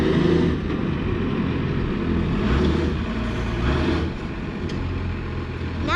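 A truck's diesel engine runs through newly fitted exhaust pipes, a steady low rumble and idle throughout with slight swells in level, fairly close and continuous.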